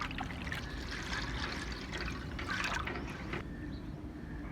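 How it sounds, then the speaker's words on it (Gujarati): Fenugreek leaves and garlic are rinsed in water, giving a soft, continuous trickling and splashing with faint sloshes throughout, quiet and close. "મેથીની ભાજી, લસણ ને બધું 2-3 પાણીએ હું ફરીથી વોશ કરી લઈશ"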